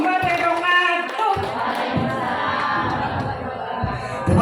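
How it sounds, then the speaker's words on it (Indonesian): Audience applause and crowd noise at a stand-up comedy event for kindergarten teachers in Kudus, a broad, steady wash of clapping that follows a brief stretch of voices and carries on at an even level. "Tepuk tangan yang meriah untuk Ibu Riawati Putra Nugroho."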